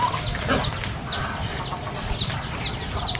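Chickens clucking and calling repeatedly nearby, with ducks also present, short rising chirps over a busy, noisy farmyard background.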